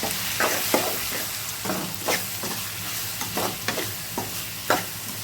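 Tomatoes with salt and turmeric sauté in a pan for mushroom pepper masala, a spatula scraping and stirring in repeated strokes over a soft, steady sizzle, close and moderately loud.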